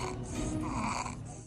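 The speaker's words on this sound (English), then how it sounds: "Baby snoring is not cute." A child snores in steady, rasping breaths, close and fairly loud, with a rough noisy texture through the whole short stretch and no talk.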